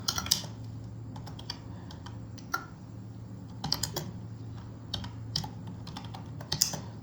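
Data is typed into PowerPoint on a computer keyboard: close, irregular clicks and key taps in short bursts over a low steady hum, with no talking.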